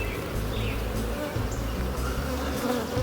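Honeybees buzz loudly and continuously at close range as a hive is opened for inspection, the agitated hum steady for the whole stretch, with a voice faintly under it.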